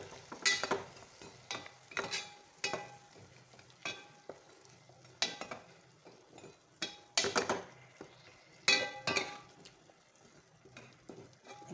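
Khasta gaja sweets fry in a pan with a low continuous sizzle while a utensil stirs and turns them, giving intermittent scraping clinks against the pan close by, with no talk over it.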